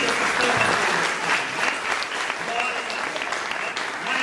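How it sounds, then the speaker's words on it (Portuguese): Church congregation clapping together in sustained applause at a worship service, a dense, steady wash of handclaps filling the room with faint voices mixed in. "Vamos dar uma salva de palmas para Jesus, por essas vidas que estão fazendo"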